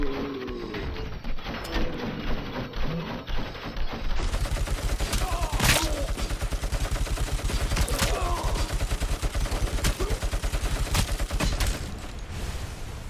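Rapid automatic gunfire in a video game rattles on in dense, continuous bursts, loud and close, starting softer and then swelling into a sustained barrage with a few heavier single shots.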